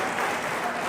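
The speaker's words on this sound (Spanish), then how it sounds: "Dale palmas al Dios del cielo" A church congregation claps together in a brief, dense burst of applause, moderately loud and steady, with no voices on top.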